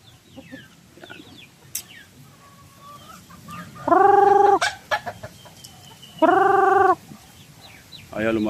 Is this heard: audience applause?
no